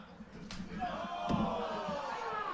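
Two sharp knife-edge chops to the chest crack out at a live wrestling match, spaced under a second apart, while the crowd rises behind them with loud wooing and cheering.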